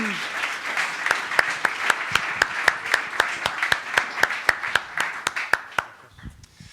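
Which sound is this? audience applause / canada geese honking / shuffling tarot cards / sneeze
audience applause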